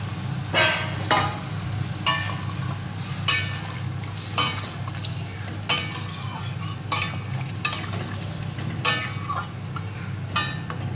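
A spice paste simmering in a pan after milk is added, bubbling steadily while a spoon stirs and scrapes in regular strokes every second or so, close and fairly loud.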